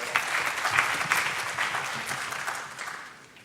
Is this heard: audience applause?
yes